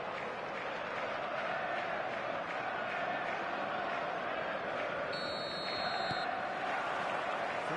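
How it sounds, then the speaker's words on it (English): A stadium crowd at a football video game match roars in a continuous, loud wash of noise that stays steady throughout. "The stadium is full of noise and energy."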